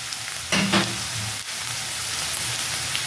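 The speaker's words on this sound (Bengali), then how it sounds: "আলুটা জাস্ট একটু ভেজে নেব বন্ধুরা" Potatoes frying in a pan give a steady, close sizzle throughout, with a brief clatter of stirring early on.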